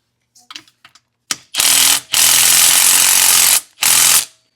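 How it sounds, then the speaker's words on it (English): A 13 mm ratchet or small impact tool loosens exhaust bolts on a Gen 3 Can-Am Outlander ATV: a few faint clicks, then three loud, close, sustained mechanical rattling bursts of a second or two each. "Got us a little 13 millimeter to take these 4 bolts off."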